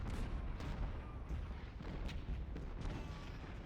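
Artillery batteries open fire in Ultimate General: Civil War during the battle of Sharpsburg (Antietam), distant booming salvos rolling faintly under a steady battlefield din.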